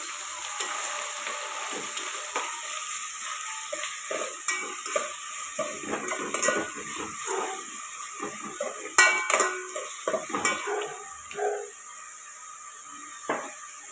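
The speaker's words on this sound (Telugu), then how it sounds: "అల్లం వెల్లుల్లి పేస్ట్ అయితే వేసుకుందాం టూ స్పూన్స్ దాకా వేసుకుందాం ఇప్పుడు ఇది పచ్చివాసన పోయేదాకా ఫ్రై చేసుకుందాం" Ginger-garlic paste fries and is stirred in a pan with a soft sizzle beneath repeated scraping and clinking of a spoon against the metal, irregular and close.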